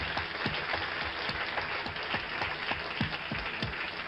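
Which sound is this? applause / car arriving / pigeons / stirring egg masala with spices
applause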